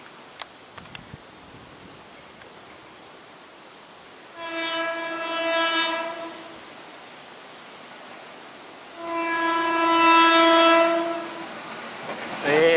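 Train horn sounds twice between Rawa Buntu and Serpong stations, a loud two-tone blast at about 4.5 to 7 seconds and a second at about 9 to 11.5 seconds, over faint passing rail rumble with a few clicks at the start.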